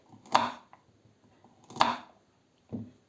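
A kitchen knife slices a home-grown carrot into rings on a board in three crisp, separate chops spaced about a second apart, close and clear in a quiet room.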